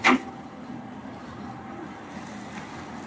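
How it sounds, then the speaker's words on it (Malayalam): A belt-driven coconut oil expeller machine for pressing dried copra runs with a steady mechanical drone, opening with a brief loud knock and staying even and unbroken after. "നമ്മുടെ യന്ത്രം ഇതാ വർക്ക് ചെയ്തിട്ടുണ്ട്"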